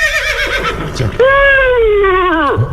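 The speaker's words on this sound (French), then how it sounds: "Ça fait le cheval en plus." A horse neighs over a phone line, a long clear whinny with falling pitch after a brief muffled stretch, loud and close with line noise beneath.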